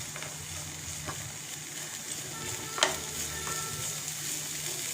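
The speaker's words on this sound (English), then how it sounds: "I give it a light stir to make sure the flavor of the star anise is nicely blending with the vegetables" A mixed vegetable soup with star anise is gently stirred in a pot, with a low bubbling simmer and one brief spoon clink against the side, close and fairly quiet with no talking.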